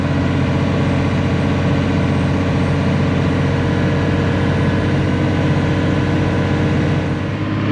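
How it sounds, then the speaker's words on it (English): A small tractor pulling a plow across a field, its engine droning loud and steady at close range throughout with a constant low rumble and no pauses. "Aaron's over there manning the little tractor"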